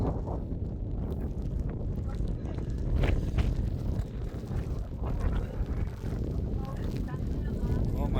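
Strong wind buffets a roadside stop on the Spiti drive toward Chandra Taal during a tyre blowout, roaring continuously as loud microphone rumble with gusts rising and falling throughout.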